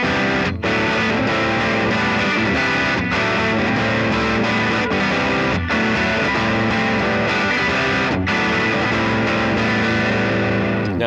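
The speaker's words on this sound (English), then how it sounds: "So for my distortion pedal, I use an Animals push and pull distortion." An electric guitar plays through an Animals push and pull distortion pedal, giving a thick, saturated, sustained distorted tone. Loud chords ring steadily with a few short breaks between them, and no talking is heard.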